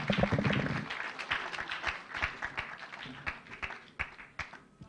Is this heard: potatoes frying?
no